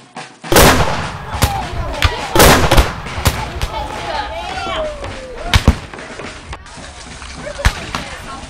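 Civil War reenactors fire black-powder muskets during a battle reenactment of Hardee's retreat: a ragged, loud volley of sharp cracks spread over several seconds, with scattered later shots and outdoor voices between them.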